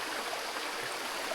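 A mountain stream on the Hawagala hiking trail in Sri Lanka flows in a soft, steady wash of water, faint and even throughout, with no voices.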